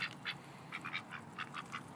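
Endangered Saxony ducks quack while eating worms, giving a quick series of about nine short, nasal quacks at a soft to moderate level close by, with faint outdoor ambience and no talking.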